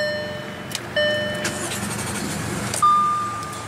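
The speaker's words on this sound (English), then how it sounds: "what you're hearing is that 3-liter supercharged V6" A 2015 Audi Q7's 3-liter supercharged V6 cranks and fires up, then settles into a steady idle with a couple of brief revs and chime-like tones.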